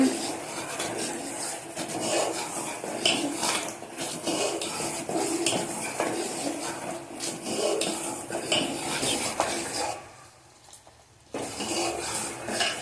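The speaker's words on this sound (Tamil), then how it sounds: "பக்கத்தில் நின்று கிண்டி விட்டுக்கிட்டே இருங்க, இல்லாட்டி அடி பிடிக்க ஆரம்பிச்சிடும்." Melting jaggery for a black sesame sweet is stirred continuously in a pan, a busy scraping and rubbing of utensil on metal that drops away briefly near the end before returning.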